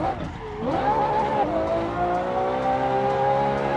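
Ferrari drifting in the Assetto Corsa racing game, with a loud sustained tire squeal over a revving engine whose pitch swoops and then holds steady; a voice is briefly heard near the start.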